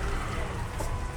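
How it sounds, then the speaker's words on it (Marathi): Steady rain falls, a constant close hiss of drops with a faint voice underneath. "पाऊस चालू आहे बाहेर"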